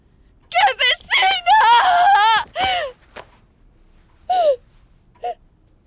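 A woman screams and wails in long, strained, quavering bursts, followed after a pause by two shorter anguished cries, loud and close with no talk in between.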